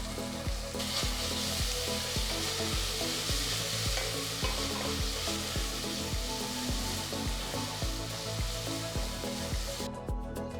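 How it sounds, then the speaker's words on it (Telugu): Ground paste stirred into golden brown onions frying in a pot for methi pulao: a loud, continuous sizzle cut by regular rhythmic scraping strokes of a spoon, close up with no voices. "ఉల్లిపాయలు గోల్డెన్ బ్రౌన్ రంగులోకి మారిన తర్వాత రుబ్బుకున్న పేస్ట్ని ఇందులో వేసుకోవాలి"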